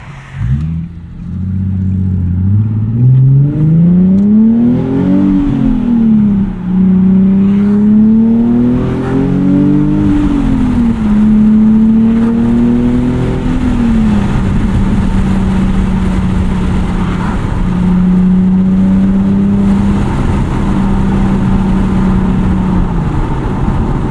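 A 2012 Nissan 370Z with a six-speed manual gearbox drives, its exhaust droning loudly and steadily, the engine note rising and falling through gear changes, then settling into a cruise.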